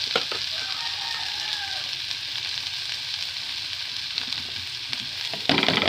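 Tofu and tuna sauté in a hot pan with a steady, dense sizzle throughout, occasional scrapes of a stirring utensil, and a brief louder burst near the end.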